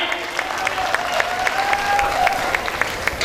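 Audience applause at a Numaish stage event as two guests are called up, steady clapping with faint crowd noise and a thin tonal hum running underneath.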